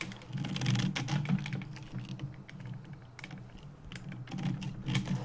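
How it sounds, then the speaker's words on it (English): Typing on the quiet chiclet-style keyboard of an Asus UX430UN laptop: soft, rapid key taps in uneven bursts, close and fairly quiet, with no talking. "Which, as you can see, is a chiclet style, and it's pretty quiet to the typing."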